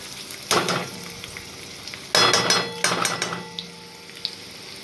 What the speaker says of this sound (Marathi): आता मी कांदा फोडणीला घालणार आहे